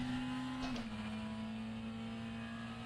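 McLaren 720S GT3 race car lapping Laguna Seca in rFactor 2, a steady close engine drone holding one pitch with a brief dip, continuous and alone.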